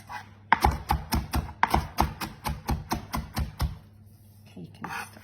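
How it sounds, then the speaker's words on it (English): A knife finely cross-chops a pile of coriander on a board for carrot and coriander soup, a steady run of about a dozen close, crisp taps that stops, with a faint voice nearby. "Then a bit of cross chopping. We want this to be really quite fine."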